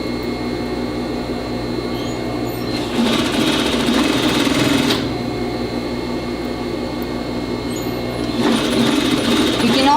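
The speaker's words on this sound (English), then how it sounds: "I can lay my lace against that stitch and just continue sewing all the way around" A sewing machine stitches lace along a vest hem, a loud, steady mechanical whir that speeds up in two bursts, one near the start and one near the end, with a hum running under it.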